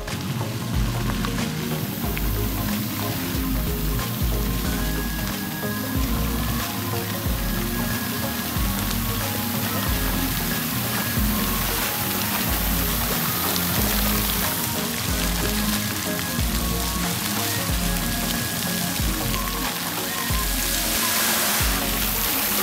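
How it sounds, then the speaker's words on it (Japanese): Fountain jets at a fountain show in Hekinan Seaside Park, Japan, shoot up to 15 meters and splash down, making a steady, dense rush of spray and splashing water that continues without a break. Faint tonal background music plays underneath it. "水しぶきの音の癒し効果です。"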